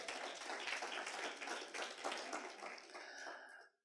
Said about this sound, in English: So can I give you a round of applause?